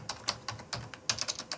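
Typing on a computer keyboard while entering drawing dimensions, a burst of about a dozen crisp, close keystrokes in an uneven rhythm, alone and fairly quiet.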